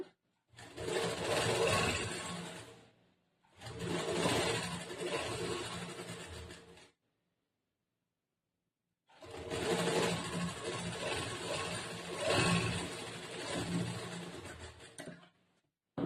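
Sewing machine running in stitching bursts on cloth, a half-inch seam for blouse stitching: three sustained whirring runs of several seconds each, close and steady, separated by short pauses and a longer silent gap.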